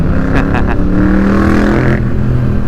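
A Harley-Davidson Fat Bob 114 motorcycle engine rumbles loudly up close, with a few quick throttle blips standing out over its steady growl.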